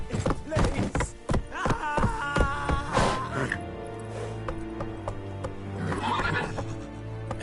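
A horse in the video game Wo Long: Fallen Dynasty gives a loud, close whinny over quick hoofbeats, then settles into a quieter stretch of low game ambience with a faint second snort near the end.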